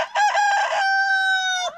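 Brahma rooster giving a single loud crow, close by, with a long sustained final note that breaks off abruptly at the end, no people speaking.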